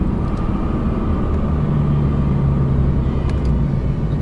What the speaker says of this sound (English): A truck and a trailer this time.